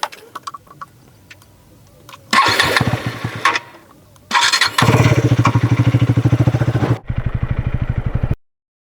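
A 2024 KTM Duke 250 motorcycle cranks and fires up, its engine catching in loud bursts and settling into a throbbing, rapid idle before cutting off abruptly; no talking.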